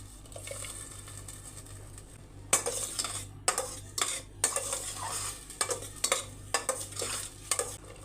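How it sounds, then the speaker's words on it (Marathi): Tomato puree fries with onions in a pan for rajma masala, a low sizzle under repeated loud metal spoon scrapes and clanks against the pan in a quick irregular stirring rhythm. "कांदा छान गुलाबी रंगावरती परतून घेतल्यावरती आपण टॉमॅटोची पिवरी टाकूया ही बघा"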